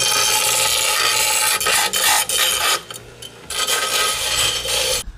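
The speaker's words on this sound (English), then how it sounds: "Wes threw the grinder out of my hands because I was doing the safety squints, so he's fabricackling the new bracket" A grinder works metal while fabricating an alternator mounting bracket in a garage. It gives a loud, continuous raspy grinding that rises and dips in intensity, with short breaks and a quieter stretch partway through.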